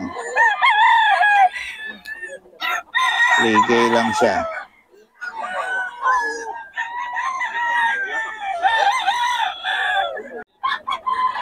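Several roosters crow loudly and close at a poultry market in Bocaue, overlapping one another, with clucking and someone talking briefly in between.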